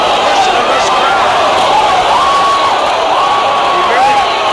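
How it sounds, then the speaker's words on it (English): Boxing crowd at a heavyweight title fight, a loud, continuous roar of cheering and whistles filling the arena, with a commentator's voice running over it. "Listen to this crowd."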